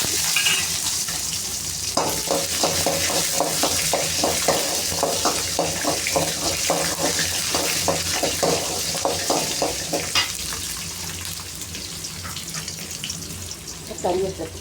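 Small onions frying in hot oil in a pan for a banana flower chutney: a steady, close sizzle with a quick run of rhythmic stirring scrapes in the middle, settling back to a softer hiss.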